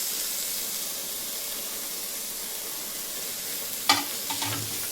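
Steady sizzling hiss from a pan of frying country chicken curry as coriander leaves go in, with a brief clatter and stir near the end.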